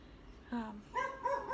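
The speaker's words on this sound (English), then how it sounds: "there's my other dog. They're all just chiming in." A small Yorkshire terrier lets out a few quick, high-pitched yappy barks, short and fairly close, joined by another dog chiming in indoors.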